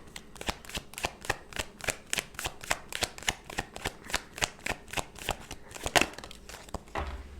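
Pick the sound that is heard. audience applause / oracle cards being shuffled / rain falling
oracle cards being shuffled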